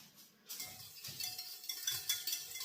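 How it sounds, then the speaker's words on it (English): A spoon clinks against a container while stirring an apple cider vinegar mixture, several quiet, close taps and scrapes in an irregular rhythm, with no talk. "Now, we just mix that up."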